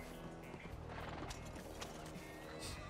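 A horse in a video game gives a soft whinny over quiet hoof clip-clops, faint against a low, steady background hum.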